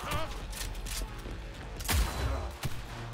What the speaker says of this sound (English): I'm literally shooting her arms off.